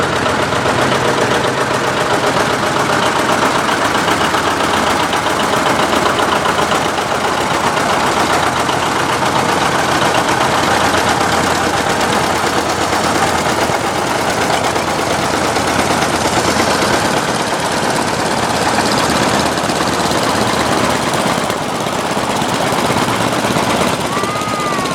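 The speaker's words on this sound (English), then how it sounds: "It's a 1958 John Deere 520." A 1958 John Deere 520 tractor engine runs during a tractor parade, a loud, continuous rumbling drone that holds steady for the whole stretch with no break.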